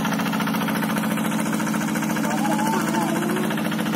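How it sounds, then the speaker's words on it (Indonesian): A tractor engine chugs steadily while plowing a rice paddy, its close, loud, rhythmic idle-like throb continuous throughout, with a faint voice briefly audible over it. "Iya, bajak sawahnya jalan ya."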